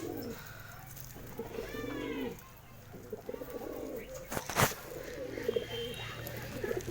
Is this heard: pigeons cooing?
yes